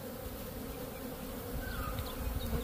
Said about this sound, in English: So I have to be careful because so many bees.